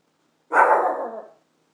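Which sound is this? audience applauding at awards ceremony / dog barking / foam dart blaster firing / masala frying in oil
dog barking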